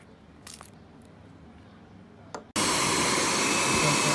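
A hair dryer kicks on abruptly and blows steadily to clear dust from a 3D printer's LCD screen, a loud continuous whoosh that follows a few faint clicks and handling taps.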